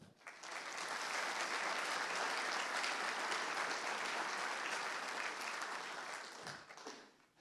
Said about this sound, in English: did you hear the very warm applause we gave to you?